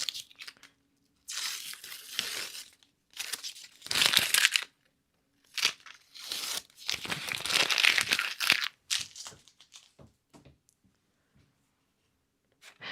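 Adhesive tape being handled, crinkled and torn or cut at a watercolor marker crafting table, coming in repeated rustling, tearing bursts separated by short quiet gaps, close and moderately loud.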